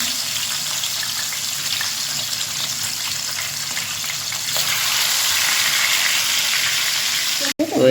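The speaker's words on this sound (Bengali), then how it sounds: "আর এখানে আমাদের এই যে ভাজা চালু হয়ে গেছে।" Fish heads frying in a pan, a steady broad sizzle running throughout, growing a little louder midway before a brief cut near the end, with running water mixed in.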